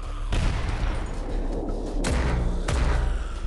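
Shotgun blasts in the zombie shooter Into the Dead 2, several loud booming shots fired at spaced intervals, each with a heavy low thump and a long rumbling tail.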